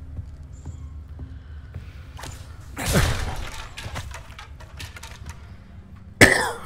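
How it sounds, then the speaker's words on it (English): A burst of coughing near the middle, broadband and harsh, followed later by a sharp loud thump at the end, over a low steady background hum. "Okay, stop coughing."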